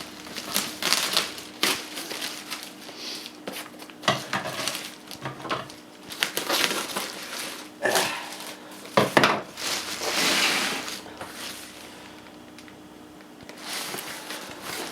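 A package box being cut open, with close scratchy slicing, tearing cardboard and irregular light taps and rustles in uneven bursts, fairly quiet, with no talking.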